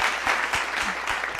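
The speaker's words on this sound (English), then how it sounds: "Can I get a little round of applause?" A small group claps in a brief, dense round of applause, steady and close throughout.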